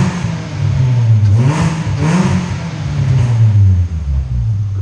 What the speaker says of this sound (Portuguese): Agora eu vou dar só uma aceleradinha de leve, só pra vocês verem a diferença do difusor pro coletor 4-in-1 com escape dimensionado.